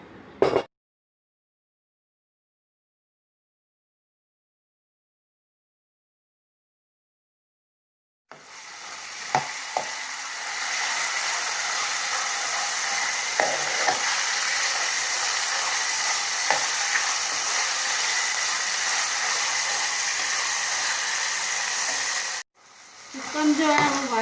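Chicken fries in oil in a pan with a loud, steady sizzle that starts after a long silence. The sizzle runs unbroken for about fifteen seconds with small crackles, then stops abruptly.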